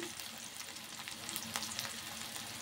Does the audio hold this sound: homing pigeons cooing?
no